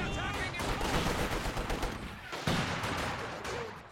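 Dense video-game combat: a grenade blast among rapid bursts of gunfire. The shots crack and rumble loudly and continuously, with sharper jolts near the middle and end, and a faint voice may sit underneath.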